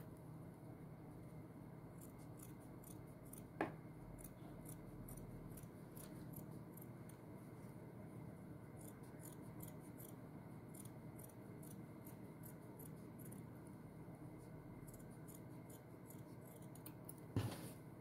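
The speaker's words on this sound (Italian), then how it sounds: "Dovete ritagliarlo ed arrivare fino al centro del fiore" Scissors snip through paper petals for a handmade DIY rose bouquet, a steady run of short, close, crisp cuts spread across the whole stretch, with no talking.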